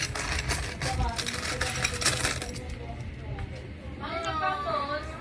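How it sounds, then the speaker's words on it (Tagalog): A handful of coins clink and jingle in bright metallic rattles, loud and close, while a person talks over them amid New Year's leftovers. "Kumuha ko ng maraming barya."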